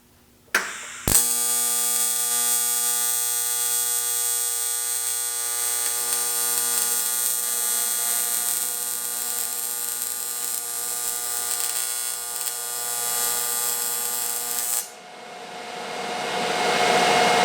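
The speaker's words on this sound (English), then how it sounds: "we'll use all the amps and see if we can weld it" Welding an intercooler core on an LS-swapped Mustang at full amperage: a loud, steady electric buzz starts abruptly after a short pop, holds evenly for about fourteen seconds, then cuts off into quiet shop background.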